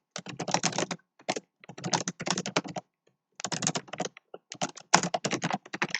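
Rapid clattering keystrokes on a computer keyboard during competitive programming, coming in dense bursts separated by short pauses, close and clear with no talking.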